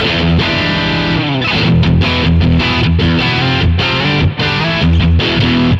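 A loud, distorted electric guitar plays thick, saturated chords and riffs through a BluGuitar Amp 1 with its humbucker switch engaged, continuous and full with no voices.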